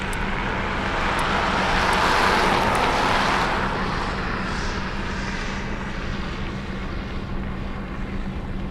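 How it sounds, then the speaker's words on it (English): A fighter jet at Anchorage's Ted Stevens International Airport in Alaska, a loud, continuous engine roar that swells and then slowly eases off, with no voices over it. "Okay, we have fighter jets."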